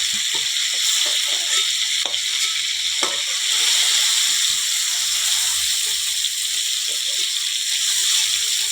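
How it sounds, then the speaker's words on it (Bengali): Ridge gourd pieces frying in hot oil with turmeric and salt give a loud, continuous close sizzle and hiss, with faint stirring clicks, and no voices. "একটু ভালো করে ভাজা ভাজা করে নেব।"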